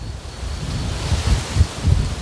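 Outdoor wind gusting hard past the microphone, blowing sand around near a chicken coop, a continuous rough rumble that swells in bursts.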